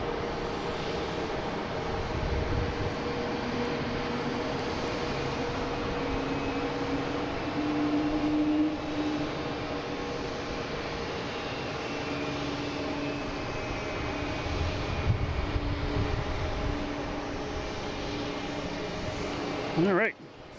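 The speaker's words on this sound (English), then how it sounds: "we have Delta coming in from Charleston, an A220, flight" A Delta Airbus A220 jet arriving to land at Boston Logan airport gives a steady engine drone with humming tones and a rising whine, under ongoing talk.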